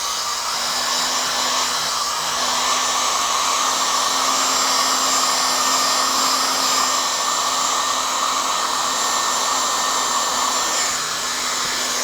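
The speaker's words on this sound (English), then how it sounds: "I'm going to use a hair dryer today so we can kind of rush this through a little bit quicker." A hair dryer runs continuously, a loud steady whooshing hum with a high whine, unchanging throughout with no other sounds.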